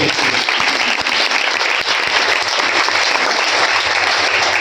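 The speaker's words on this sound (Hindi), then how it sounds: "बहुत जोर से ताली बजाइए।" Loud applause rolls through a crowd at a motivational talk, many hands clapping in a thick continuous wash with a few sharper claps standing out near the front.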